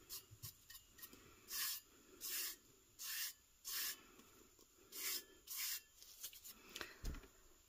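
Light rubbing on the smooth surface of an epoxy tumbler, heard as about eight soft, evenly spaced hissing strokes with brief pauses between, close and quiet, and no talk.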